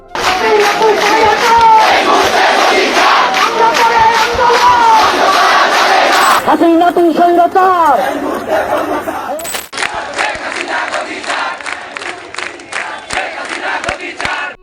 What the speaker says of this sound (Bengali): রাজধানীর অলিগলি থেকে মহাসড়ক সবখানে ছিল একটাই স্লোগান